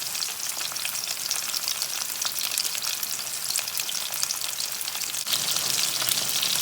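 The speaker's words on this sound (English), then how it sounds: "So I fry as much as needed only." Pieces of emperor fish fry in a pan for a curry, giving a steady, loud, close crackling sizzle with no pauses and no talk.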